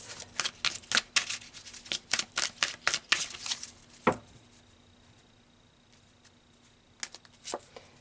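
Tarot cards are shuffled and drawn by hand, a quick run of soft close flicks and taps, then a pause and a few more light card snaps, quiet and without talk.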